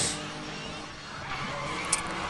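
A car skids under the handbrake in the racing game Need for Speed The Run, a sustained tire squeal and engine rush at steady loudness throughout, with a brief sharp accent near the end.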